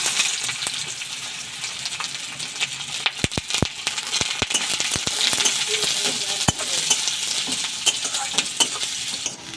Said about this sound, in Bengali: তেলটা গরম হয়ে গেছে, রসুন থেতো করে রেখেছি ওটা দিয়ে দেবো। পেঁয়াজ দিয়ে দেবো